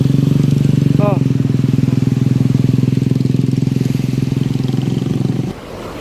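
A motorcycle engine close by on a village road in Indonesia, a steady loud running drone that holds for about five seconds and then drops away abruptly, with a brief voice near the start.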